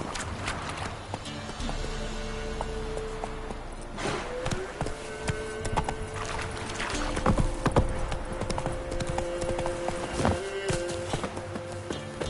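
Roach, Geralt's horse in The Witcher 3, gallops in a quick, steady rhythm of hoofbeats that stays close and clear throughout, with game music and ambient sound running beneath.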